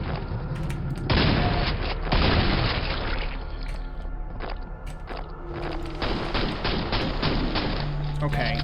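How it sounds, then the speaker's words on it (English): Explosive pops and booming gunfire in a Quake Brutalist Jam 3 map, loud and dense with heavy thuds and clattering mechanisms, running continuously with no clear breaks. "I do like how the way the explosives pop"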